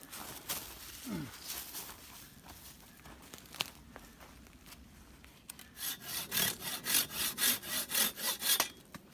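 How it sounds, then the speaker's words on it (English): A Silky hand saw cuts through wood outdoors while a tee pee drying rack is being built, starting with scattered scrapes and ending in a quick run of rhythmic back-and-forth strokes, fairly close but soft. "I need a silky saw."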